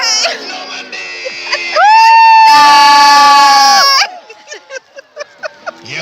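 A crowd at a Battle of Hastings reenactment cheers and shouts for the Dukedom of Normandy: scattered voices, then a loud sustained roar of many voices for about two seconds, fading back into short individual shouts.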